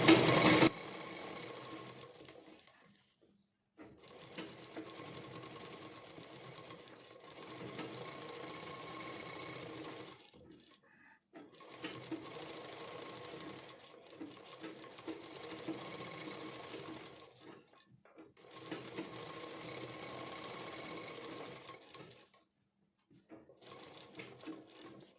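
An electric sewing machine stitching a pleated lehenga, fast rattling runs in several bursts of a few seconds each, separated by short pauses, with faint talk in between.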